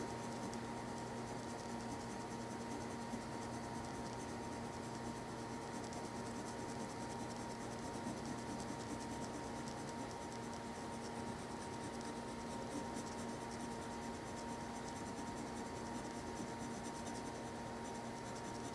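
A pencil lightly shades a tiger face drawing on paper, producing a continuous soft, faint scratching texture with no pauses and no talking.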